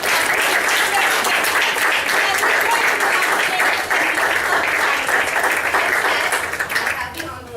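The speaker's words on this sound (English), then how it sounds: "applaud them with me, won't you? Yes, put your hands together." Loud, sustained applause from an audience at a pageant for girls, dense clapping that holds steady for several seconds before tapering off, with a speaking voice partly under it.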